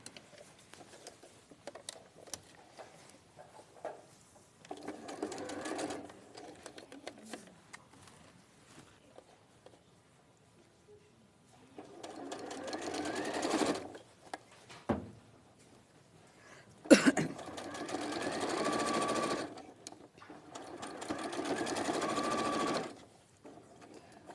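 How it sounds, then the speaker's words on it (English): A sewing machine runs in several separate bursts, stitching a crease line along folded fabric, with quiet pauses and a brief clatter between the runs. "you can sew the crease line."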